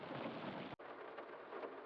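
Dense, steady hiss of hail and rain pounding the ground in a logging simulator storm, with a low rumble of thunder underneath, briefly cutting out for an instant before resuming at the same loud level.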